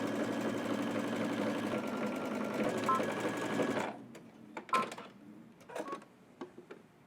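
A home sewing machine runs a steady, fairly quiet stitching burst along the side seam of a zipper hoodie for about four seconds, then stops, leaving scattered clicks and handling noises.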